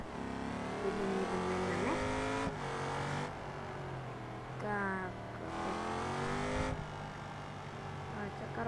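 BMW M5 F90 engine revving in BeamNG Drive, a loud simulated car engine repeatedly climbing and dropping in pitch through gear changes, with brief pauses between pulls and someone talking over it.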